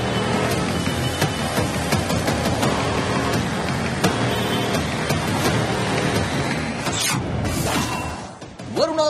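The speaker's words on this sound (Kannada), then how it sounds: "ಬಿಟ್ಟು ಬಿಡದೆ ಸುರಿಯುತ್ತಿರುವ ಮಳೆಗೆ ಉತ್ತರ ಭಾರತ ಅಲ್ಲೋಲ ಕಲ್ಲೋಲವಾಗಿದೆ" Torrential monsoon rain pouring over Delhi streets, a dense, continuous hiss of downpour with faint traffic-like rumble beneath and a short sharp clatter near the end.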